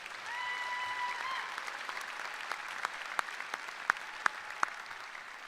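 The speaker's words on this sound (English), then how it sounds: "How about one more round of applause for Lynn Show?" Graduation audience applauding for a speaker at a Morehead commencement: steady, fairly distant clapping from a large crowd, thinning toward the end into a few sharper, isolated claps.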